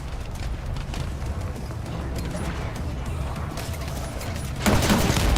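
Dense, continuous explosions and gunfire in the video game The First Descendant form a steady loud barrage, with a heavier burst near the end.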